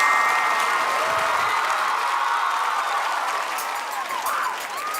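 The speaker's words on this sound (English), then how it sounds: "Give her a round of applause." Studio audience claps and cheers for a young girl on a TV talent show, a loud, full burst of applause that eases slightly near the end, with faint voices mixed in.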